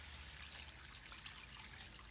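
Water pours steadily into a cooking pan for pork hock paksiw, a continuous close trickling splash with no voices.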